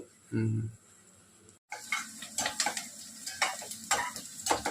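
Onions fry in a pan for a chicken curry, with soft sizzling and spatula scrapes after a brief pause; a voice is heard briefly at the start.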